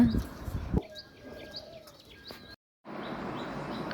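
Pet birds chirp in short, high tweets at intervals while eating, fairly close, with a brief burst of louder noise at the start and end.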